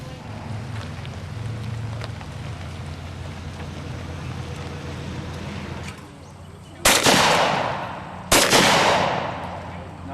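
Two sharp, loud gunshots about a second and a half apart ring out at an outdoor 4-H youth shooting competition, each leaving a short decaying echo, following several seconds of steady wind and background noise.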